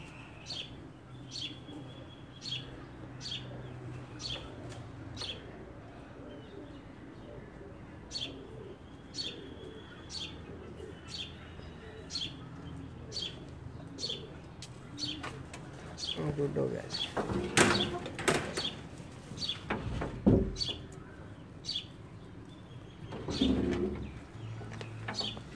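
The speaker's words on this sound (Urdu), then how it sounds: "مصری کبوتر" Egyptian pigeons coo softly in repeated low calls, with sharp chirps and some clattering and rustling close by, plus faint voices in the background.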